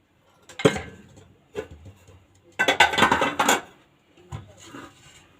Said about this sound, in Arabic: نجيب الكبشه، احاول اجيب الحله الناحيه التانية